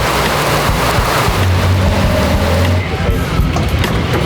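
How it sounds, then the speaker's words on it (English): Heavy rain pours at a race track during a TC America touring car race weekend, a dense, loud, steady downpour with a low rumbling undertone that runs the whole time. "Thunder, lightning, crazy ass rain."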